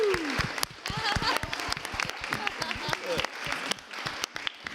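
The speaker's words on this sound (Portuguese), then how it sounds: "Vamos aplaudir o Cleito pela sinceridade dele" Audience applause breaks out in a studio talk-show setting, a dense, steady wash of clapping lasting several seconds with voices and cheering mixed in over it.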